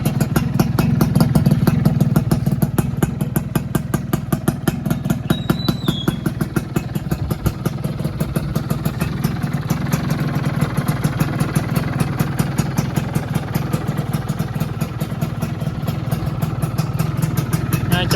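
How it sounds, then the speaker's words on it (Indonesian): A 2001 Yamaha F1ZR two-stroke motorcycle idles steadily through its exhaust, a close, continuous rapid putter with fine clattering pulses and no talking. "Ini suara knalpotnya"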